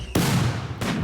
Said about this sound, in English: What you hear is violent explosions.